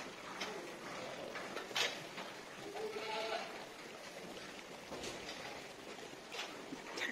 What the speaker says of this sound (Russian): Жуют, жуют, кряхтят, мекают, бегают.